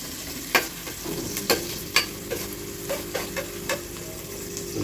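Onions frying in a pan while biryani is cooked at home: a steady sizzle with a spoon stirring and scraping in regular taps, close and moderately loud, with no talking.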